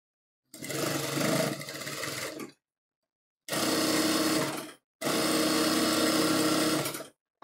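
Sewing machine stitching the leftover lining panel of a sixteen-panel kalidar lehenga, running in three loud steady bursts with short silent gaps between them.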